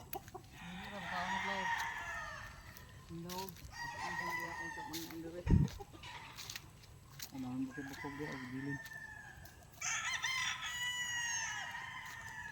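Farmyard chickens cluck and a rooster crows repeatedly at a poultry pen, the calls fairly close and overlapping, with people talking quietly in between.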